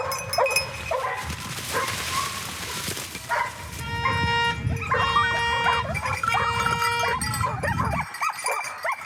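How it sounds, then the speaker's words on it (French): Hunting dogs barking and yelping in a forest during a deer and wild boar hunt in the Aisne, overlapping excited yips and howls at mid distance, fairly loud and continuous. "Ah, là-bas, il a un chien qui lui colle au train."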